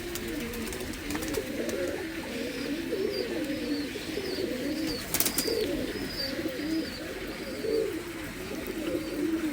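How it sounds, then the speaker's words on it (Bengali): Several pigeons, including a Star Pilanka male, coo continuously close by in rolling, repeated phrases, with a brief sharp knock partway through and faint higher chirps above. "পায়রার মুভমেন্ট দেখুন"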